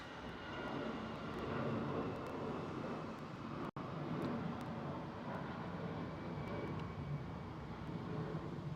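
An Aer Lingus airliner at London Heathrow produces a steady, moderately loud jet rumble heard at a distance, continuous apart from one brief dropout, with no speech.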